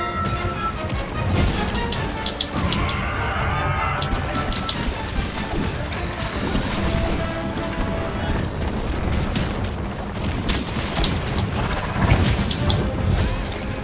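Steady rainfall in the game Monster Hunter World on PC, a constant dense hiss with low rumbling booms and occasional crashing impacts layered underneath throughout.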